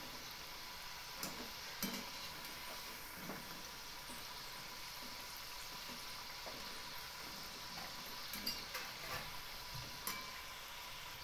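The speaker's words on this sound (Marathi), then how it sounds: "अशा प्रकारे बघू शकता आपले लाडू किती मस्त खुसखुशीत तळले जात आहे." Laddoos deep-frying in oil over a low flame make a continuous close sizzle and bubbling, with occasional soft clicks and stirring knocks through the whole stretch and no talking.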